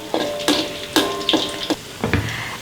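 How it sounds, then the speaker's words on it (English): Garlic frying in a pan while being stirred, with a steady sizzle broken by about six distinct scraping strokes of the spatula, close and fairly loud. "Also cook the garlic until it's soft and stir it occasionally."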